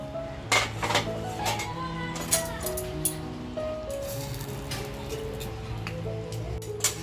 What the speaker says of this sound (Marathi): झाकण काढून घेते